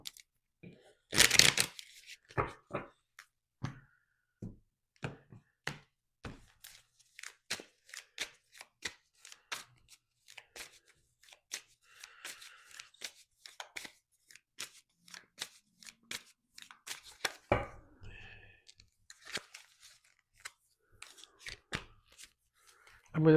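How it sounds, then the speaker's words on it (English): Tarot cards are pulled from a deck and laid down for a Capricorn reading, making a series of sharp, close snaps and light slaps with brief shuffling rustles between them; no one talks over the handling. "I'm going to just take out some cards for you, extra cards, before I start the actual reading"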